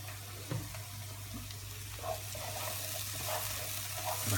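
Ingredients caramelizing in a hot pan for a crown-shaped pizza topping give a steady soft sizzle, with a few light scrapes or stirs, fairly close and without talk.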